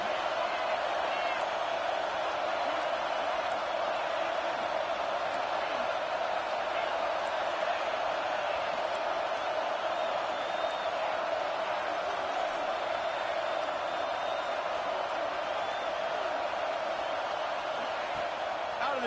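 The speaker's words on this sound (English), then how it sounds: "how nice is it to have the home crowd going absolutely bananas?" A home stadium crowd at a football game roars steadily and loudly, with a dense, unbroken wall of cheering and shouting that never drops away.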